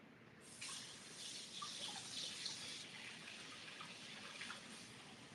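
Water runs from a tap with a steady, faint hiss and soft splashing. It turns on early, stays constant and changes slightly partway through. No one talks during it.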